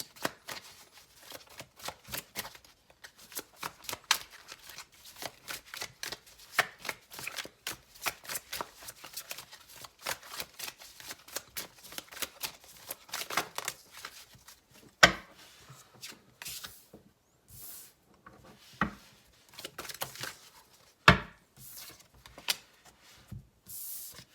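A deck of tarot cards is shuffled by hand for a long stretch, giving dense, close riffling and rubbing with occasional sharper taps and brief pauses, with no talking.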